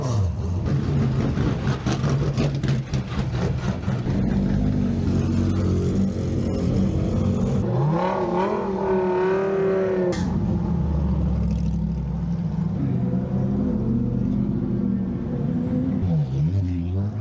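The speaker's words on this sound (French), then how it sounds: "on a les Endurance Racing Legend GT qui sont prêtes à rouler juste après les GT4" Endurance Racing Legend GT race cars at Spa during the 24h centenary in the rain, with loud mid-pitched engines rumbling and revving close by, one car rising in pitch as it accelerates past.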